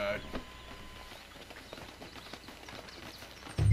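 Horse hooves clip-clop in Red Dead Redemption 2 gameplay, a soft, steady run of light hoofbeats under background voices, ending with a louder thump near the close.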